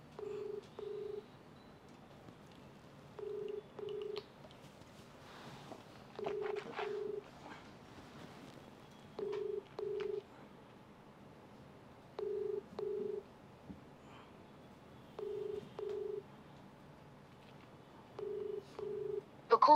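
A telephone call waiting for an answer: a quiet, regular ringback tone repeats in short double pulses about every three seconds over faint background hiss, with no one picking up.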